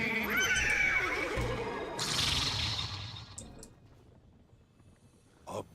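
A horse whinnies loudly in a video game, a wavering neigh followed by a breathy swish that trails off into quiet, then a brief soft thud at the end.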